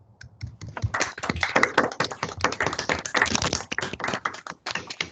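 Seminar attendees on an online call unmute and clap after a maths talk, producing dense, irregular hand claps from several people at once, steady for a few seconds and tapering at the end.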